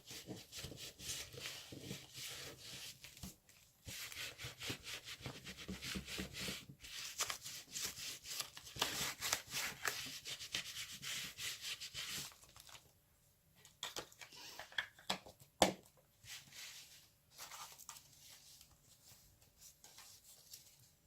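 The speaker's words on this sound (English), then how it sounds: "I'm just gonna add a little distressing over here with my ink." Ink rubbed onto a vintage art journal page to distress it, giving a close, steady papery rubbing for several seconds, then quieter scattered scuffs and taps.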